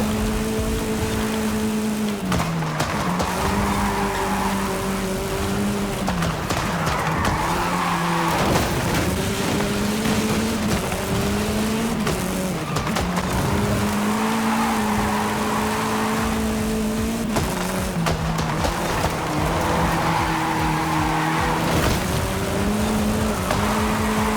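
A Ford RS200 Evolution engine drones loudly and continuously in Forza Horizon 5, revs climbing and dropping through gear shifts with tire skids and gravelly road noise throughout, no voices.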